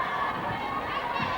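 Crowd at a 1998 netball match cheering and shouting in a sustained, moderately loud wash of voices in an indoor arena, with no single voice standing out.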